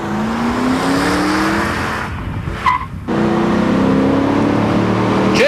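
The new Cobra race car roars by at a 1996 auto show, its engine loud and steady, then drops away for a moment before revving hard again with a brief tire squeal.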